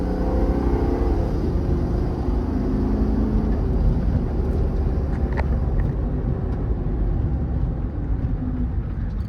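A 2021 Ford F600 service truck with a 7.3 V8 and 4x4 accelerates steadily, its engine droning loud and close with a continuous low rumble that shifts slightly as it goes through gears.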